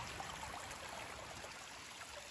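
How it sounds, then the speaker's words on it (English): Storm floodwater runs through a garden creek bed beside a vegetable garden, a steady, quiet rushing stream with constant trickling texture and no voices over it. "it is working quite well, but it is about to overflow itself. I mean, there's so much water."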